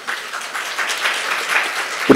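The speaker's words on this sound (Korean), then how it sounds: "박수 부탁드릴게요" Audience applause at a cultural heritage tourism conference session, a moderate wash of many hands clapping steadily for about two seconds, a little distant and even.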